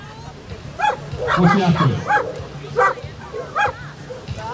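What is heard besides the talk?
young German Shepherd puppy barking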